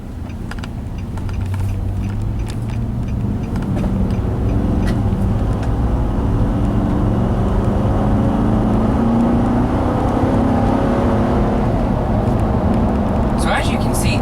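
A 2012 Nissan Titan SV Texas Edition pickup with a 5.6 liter V8 and five-speed automatic accelerates, its steady engine drone and road noise heard from the cab under continuous talking.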